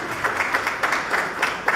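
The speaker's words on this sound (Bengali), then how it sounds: "সকলে তাকে একটু করতালি জানাবেন" Applause from the audience at a literary award ceremony: a short, moderately loud burst of many hands clapping together in an indoor hall, uneven and rippling, with no voices over it.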